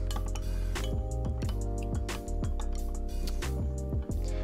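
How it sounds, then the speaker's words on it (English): A spoon clinks repeatedly against a glass, stirring thick cocktail syrup with hot water in a quick, uneven rhythm, close up, with a steady musical hum underneath. "Then just give it a stir."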